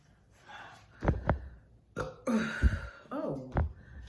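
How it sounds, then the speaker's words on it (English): Several deep, loud burps come one after another with short pauses between them, after the person has been drinking a cold Corona beer, with faint breathing in between. "won't even give me no belch."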